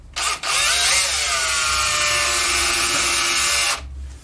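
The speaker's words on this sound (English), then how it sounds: "I'm going to just drill a relief hole" Power drill boring a relief hole into a small wood workpiece on a DIY trim router table build, a loud steady whine that rises in pitch after a brief start, running close up for about three seconds with no talk.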